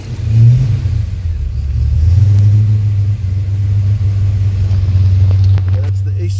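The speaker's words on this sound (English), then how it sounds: "firmware ECU is now running on a V8 in full sequential mode." A V8 engine idles and revs on a firmware ECU in full sequential mode, a strong steady low rumble with a brief rev swell near the start, held loud and close throughout.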